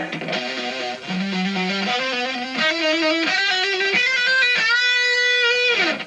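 A distorted electric guitar plays an arpeggiated phrase with rapid trills between notes, sustained and loud, rising toward higher notes at the end.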